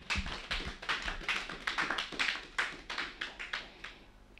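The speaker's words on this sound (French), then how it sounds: "Acclamons pour la gloire de Jésus" A church congregation claps in praise of Jesus, with steady, fairly quick rhythmic hand claps at moderate volume, alone with no talk.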